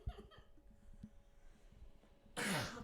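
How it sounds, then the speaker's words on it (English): A person coughs several times in a quick burst, fairly close and moderately loud, followed after a quiet pause by a louder harsh cough or throat noise. "I'm still getting over this cough"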